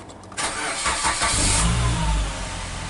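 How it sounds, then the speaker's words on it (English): A Suzuki Grand Vitara engine cranks briefly and catches, then settles into a steady, fairly loud running rumble up close with no voices. "so I'm gonna start the vehicle"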